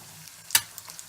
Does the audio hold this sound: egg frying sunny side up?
yes